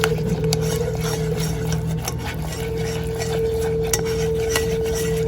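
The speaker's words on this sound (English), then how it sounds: "I want to make sure to keep stirring constantly because we do not want this to burn" A spoon stirs keto peanut brittle mixture in a pot on a burner, making quick, repeated scrapes and clinks against the pot over a constant hum, close and steady throughout.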